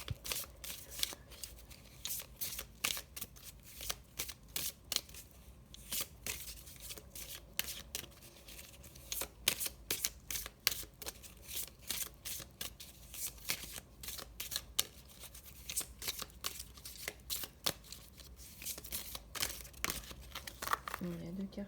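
Cards for a card reading are shuffled by hand in close, quiet bursts of riffling and crinkly flicks, repeated over and over with brief gaps.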